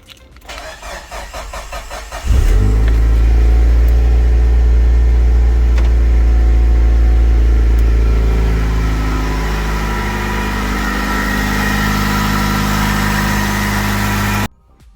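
Mitsubishi Lancer Evolution 6 Tommi Makinen engine cranking briefly, then catching and settling into a loud, steady idle for about twelve seconds before cutting off, with nobody speaking.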